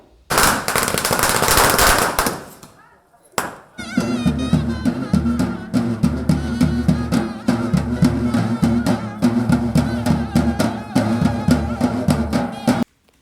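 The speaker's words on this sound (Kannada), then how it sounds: "ನಾನೇ ಪಟಾಕಿ ಹಚ್ಚಬೇಕು ಅಂತ ಹೇಳಿಬಿಟ್ಟು ಅವಳು ಅವಳೇ ಪಟಾಕಿ ಹಚ್ತಾ ಇರೋದು" Firecrackers set off during a Satyanarayana puja celebration: a loud crackling burst for about two seconds, a short pause and a single pop, then a long, rapid, rattling chain of explosions lasting around nine seconds.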